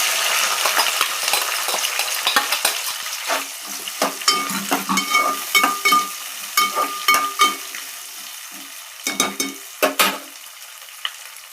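Onion and green chillies frying in a pan, a strong sizzle at first that thins out, overlaid by a series of sharp metallic clinks and scrapes from stirring with a spoon.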